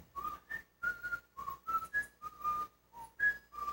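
A person whistles a simple tune in short, separate phrases with brief gaps between them, close and clear with no talking.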